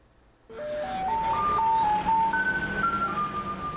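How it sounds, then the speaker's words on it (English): A garbage truck's musical jingle starts abruptly and plays a loud, clear melody of stepped electronic notes, continuing steadily to the end. "Isn't it tiring to follow the garbage truck daily?"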